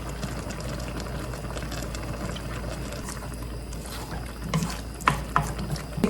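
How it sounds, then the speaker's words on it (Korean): Tteokbokki sauce bubbles on high heat in a pot, a faint, steady simmering with soft pops and a few sharper clicks near the end. "많이 보글보글 끓이면 이제 조금 약불도 줄이고요"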